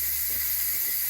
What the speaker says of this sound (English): This is the Nesco, and you can hear the steam.